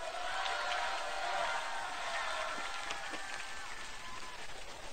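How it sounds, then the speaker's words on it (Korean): A crowd at a youth reunification cultural festival applauds to welcome Korean Youth Alliance chairman Kim Seung-min, a faint, even patter of distant clapping with no talk over it. "한국청년동맹 김승민 위원장을 박수로 모시겠습니다."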